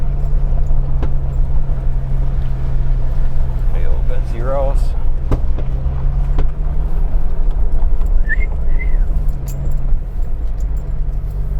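A Jeep out on a test drive gives a steady low engine drone throughout, with keys jangling near the middle and people talking over the ride.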